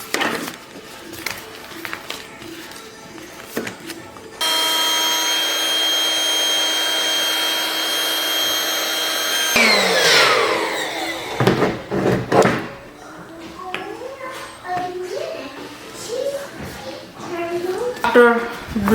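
An air pump runs steadily for about five seconds, inflating a swim belt, with a continuous whooshing drone that stops abruptly. Clatter and handling noises come before it, and a person speaks afterward.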